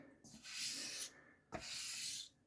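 A Puma Inox straight razor is drawn across a coarse 1K honing stone in a kitchen: two long, close rasping strokes separated by a brief pause, loud and gritty, with no voices.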